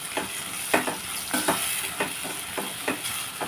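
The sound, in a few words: mango curry frying in a pan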